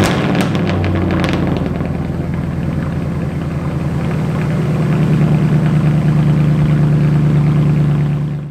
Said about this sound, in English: it's 50 degrees out, cold start